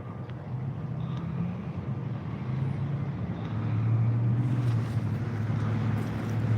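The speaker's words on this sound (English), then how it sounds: "Now that is a government vehicle." A government vehicle drives past outside a county courthouse, a moderate engine rumble and tyre noise that swells gradually as it approaches, heard from the roadside without talk.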